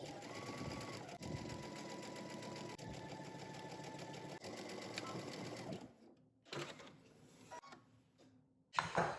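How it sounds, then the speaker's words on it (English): A sewing machine runs stitching the back seam of a McCall 8514 jumpsuit, a fast, even mechanical whir in several steady bursts with brief pauses, then stops, followed by faint handling sounds and a closing clunk. "now we're gonna go ahead to the sewing machine"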